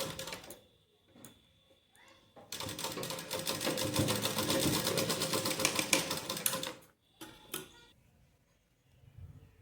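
Sewing machine stitching lace onto a small doll dress, a few short stitch bursts, then a sustained rapid whirring run of about four seconds, and more brief bursts after a stop, close and without talk.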